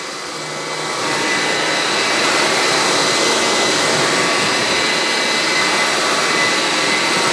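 Hoover ONEPWR cordless pet vacuum cleaner motor spinning up, then holding a loud, steady whine up close with no talking over it.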